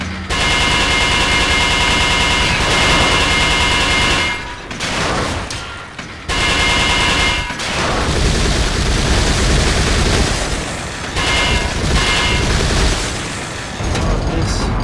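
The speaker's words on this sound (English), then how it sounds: "this machine gun is just something else" A machine gun in Resident Evil 4 fires in long, loud, dense bursts, broken by a couple of brief pauses, with heavy booming impacts mixed in.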